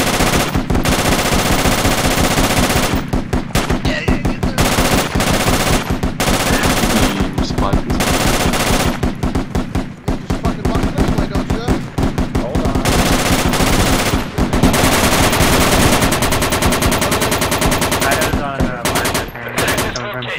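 Sustained machine gun fire in the military shooter Project Reality, loud and close, long rattling bursts with brief gaps, over distant firing.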